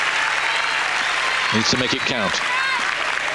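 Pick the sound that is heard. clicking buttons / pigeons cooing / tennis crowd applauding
tennis crowd applauding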